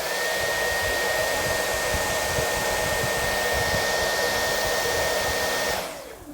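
A Dyson cordless vacuum on high with boost mode roars as a loud, steady airy rush with a thin high whine, close up and constant, then cuts off abruptly near the end.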